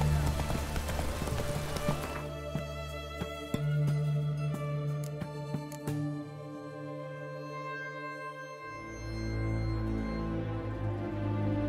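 Hooves of the horse Roach galloping in The Witcher 3, a fast rhythmic clip-clop over a dense game soundscape with music, shifting midway into a deeper rumbling ambience.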